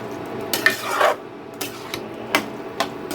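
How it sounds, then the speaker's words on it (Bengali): Bottle gourd being stirred together with bori and ground poppy seed paste in a pan, heard as several sharp scraping and clinking strokes of a spoon against metal, close and fairly loud. "এখন আমি এটাকে খুব ভালো করে লাউয়ের সাথে মিশিয়ে দিব বড়িটা আর পোস্ত বাটাটাকে"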